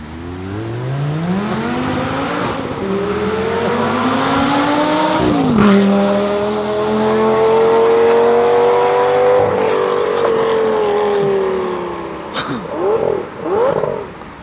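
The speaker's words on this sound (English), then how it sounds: "my friend is gonna take it for a ride and show it to you guys. So there he is coming in the distance" A yellow 2006 Lamborghini Gallardo Spyder approaches from a distance and roars past loudly, its engine note climbing through the gears, dipping on a shift and rising again before fading away with a couple of final revs.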